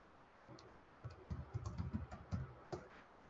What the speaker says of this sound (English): Gosh, I can't type.